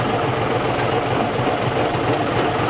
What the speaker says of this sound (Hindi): अब मैं डी के 3rd गियर में इसको चला रहा हूँ